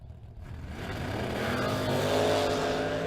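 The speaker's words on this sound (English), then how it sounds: "Wheels up for the Mustang as he crosses the center line." A Mustang drag car launches down a drag strip, engine roaring loud and close, rising steadily as it accelerates away with no talk over it.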